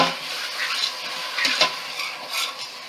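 Apple cider vinegar being stirred into a pot of collard greens pot liquor, a soft, steady scraping and sloshing with light clinks of a utensil against the pot, close and fairly quiet.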